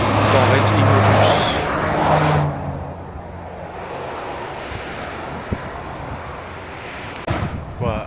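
A Corvette race car roars past nearby on a road after Le Mans Classic, loud and fading within a few seconds, followed by quieter traffic noise and a brief later engine burst, with people talking.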